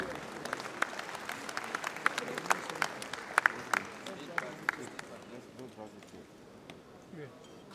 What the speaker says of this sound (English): Please, a round of applause for George Akume